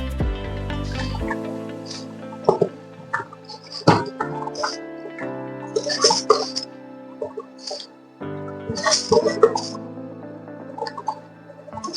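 Rice goes into a pot of salted boiling water for chicken biryani, with wet splashes, drips and light clinks in short uneven bursts at moderate volume.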